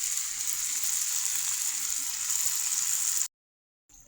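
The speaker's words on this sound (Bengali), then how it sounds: "এই যে ভুড়িও জাল দেওয়া হচ্ছে," Tripe sizzles steadily in a hot pan at home, a loud, continuous hiss that runs unbroken for about three seconds before cutting out abruptly, with no talk over it.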